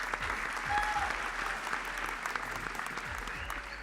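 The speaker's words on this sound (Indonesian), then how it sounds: "keren banget. Tepuk tangan Keren dong" Continuous applause from a television studio audience after a Jaipong dance performance, a steady dense clatter of many hands with some voices underneath.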